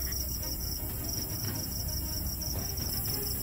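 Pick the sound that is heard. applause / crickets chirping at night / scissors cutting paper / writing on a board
crickets chirping at night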